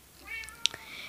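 A cat meows once inside a Minecraft game, short and fairly clear over quiet background hiss, followed by a faint second mew.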